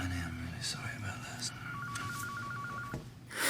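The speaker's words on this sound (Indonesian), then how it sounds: "telepon berbunyi" A telephone rings in a film, a rapid warbling electronic trill repeating for about a second, over a quieter background of other film sound.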